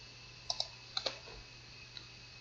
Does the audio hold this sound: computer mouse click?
yes